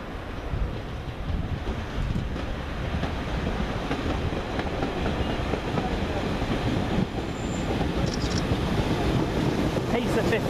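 Close, loud, steady rumble and rolling of a Pacer diesel multiple unit, a Leeds to Sheffield service, running through a station for the whole stretch with no let-up.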